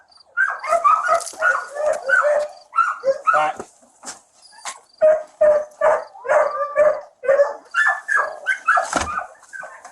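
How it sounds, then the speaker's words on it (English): Dog barking repeatedly behind a chain link fence in a backyard, a fast series of loud, close barks and yelps with short breaks, while a person speaks briefly. "There's a dog on the other side."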